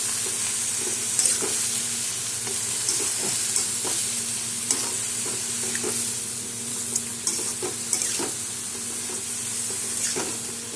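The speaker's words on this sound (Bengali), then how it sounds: "নেড়ে নেব" Shredded cabbage curry with salt, cumin powder, chilli powder and turmeric is stirred in a sizzling pan, producing soft, repeated scrapes and clinks over a steady close frying hiss.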